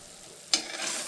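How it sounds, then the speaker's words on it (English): Roasted eggplant sizzles in a pan, a soft steady fry until a sharp scrape of a stir halfway through brings a louder, brighter sizzle that carries to the end, with no one speaking. "Give it a nice stir."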